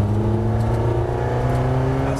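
A race car on the Circuit du Laquais accelerates hard at full throttle, its engine note holding a loud, steady, rising drone close by for a couple of seconds.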